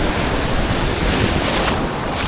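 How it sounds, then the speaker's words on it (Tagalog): Ocean waves wash steadily at sea during a fishing outing, a loud, continuous broadband rush mixed with heavy wind buffeting the microphone. "Grabing alon."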